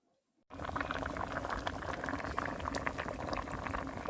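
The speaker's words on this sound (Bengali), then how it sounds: "ডাল সেদ্ধ হয়ে এসেছে" Lentils (dal) boil in a pot in a village kitchen. After a half-second of quiet, a loud, close, continuous bubbling sets in and holds steady, with no voices.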